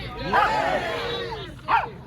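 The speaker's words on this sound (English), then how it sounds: "there's a lot of vicious canines out there" Small dogs yip and bark at an outdoor steampunk gathering in Port Townsend, two sharp barks heard at moderate distance over faint background chatter.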